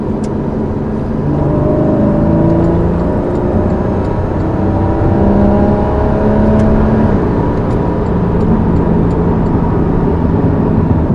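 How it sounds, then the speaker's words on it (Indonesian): A Porsche Boxster 2.7 (981) accelerating hard on kick-down on Jakarta roads gives a steady droning engine hum with rising tonal whine. Road noise stays constant and loud throughout, with no talking over it. "pas kick down ada suara ngung gitu"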